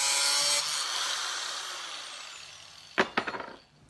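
A 4-inch cut-off wheel grinds through a metal RC chassis bar held in a vise, a loud continuous high whine that fades as it spins down, followed by a few sharp knocks.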